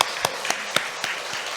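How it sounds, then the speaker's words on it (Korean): A church congregation at a Sunday morning Easter service applauds the choir and accompanist, a brief steady clapping with a few sharper louder claps near the listener. "우리 격려의 박수 한번 다시 한번 보내도록 하겠습니다"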